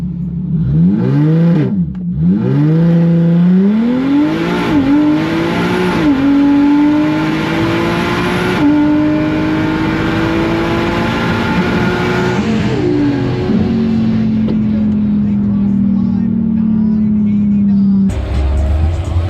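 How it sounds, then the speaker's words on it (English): A drag racing car does a big burnout, its engine revving up and down loudly with squealing, rising and falling tones that settle into a long sustained roar, while a commentator talks over it. "a big burnout for the guy who run the fastest time today"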